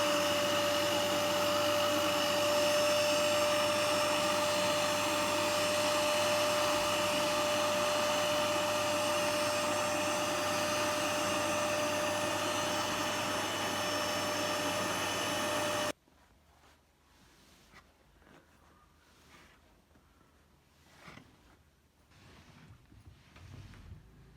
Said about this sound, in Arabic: هشيل برضو السجادة واكنسها